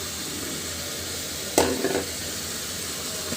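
Washed potatoes go into a pan of cooked spice masala for spicy fried tripe, bringing a sudden sizzling splash over a constant frying hiss that then settles back down.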